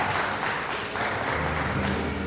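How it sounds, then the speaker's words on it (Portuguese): A church congregation applauding during a family worship service, a dense continuous patter of many hands clapping, fairly loud and steady with no voices over it. "Aplauda o nome santo do Senhor"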